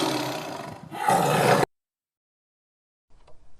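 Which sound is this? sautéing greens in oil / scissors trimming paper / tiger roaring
tiger roaring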